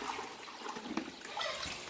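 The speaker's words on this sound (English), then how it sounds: "and lightly pour it into my tank" Treated fresh water is poured gently from a small pitcher into a fish tank, making a continuous splashing, bubbling rush at close range.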